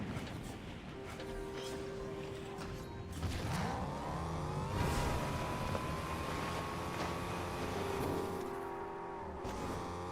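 A car is driven in a video game, its engine tone rising and bending with each shift and turn, steady and fairly quiet throughout.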